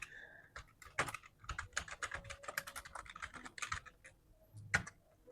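Rapid, uneven keystrokes on a computer keyboard while details are entered into an online checkout form, close and fairly quiet, with short pauses between bursts and no talking.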